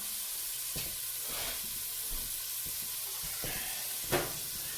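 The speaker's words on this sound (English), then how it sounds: "So we will go ahead and add the pork now." Pork pieces sizzle and fry in a hot pot while being stirred, a steady close hiss broken by a few louder clatters and scrapes, with no talking.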